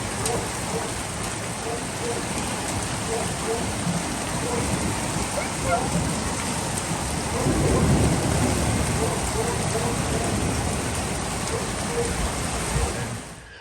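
Heavy rain pours steadily and loudly, with a low rumble of thunder swelling midway beneath the constant downpour.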